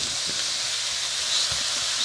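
Zucchini and sausage sizzle steadily in a hot, fat-coated pan, a constant close hiss with faint low knocks beneath.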